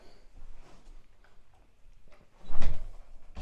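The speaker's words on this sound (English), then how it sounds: "I'm going to shut the bathroom door." A bathroom door in a shabby seaside hotel room in Blackpool shuts with a single loud thud and rattle near the end, after a stretch of quiet room noise.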